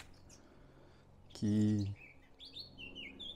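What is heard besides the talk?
small bird chirping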